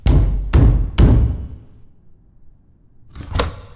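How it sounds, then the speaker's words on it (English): Three heavy fist pounds on a door in slow, even succession, loud and close with booming low thuds, followed by a quiet pause and then a sharper, fainter rattling knock. "Cronan pounded on the door."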